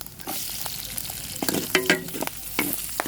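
Onion and garlic frying in a pan for pancit bihon, with a steady hiss and sizzle broken by irregular scraping stir strokes, close and fairly loud, no voices.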